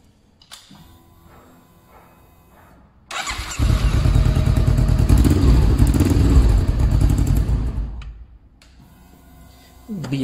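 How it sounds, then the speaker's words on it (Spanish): A motorcycle with a fuel-injection system starts after a few ticking clicks, idles loudly and evenly for about five seconds, then shuts off, followed by a brief clatter. "la motocicleta sí funcionó"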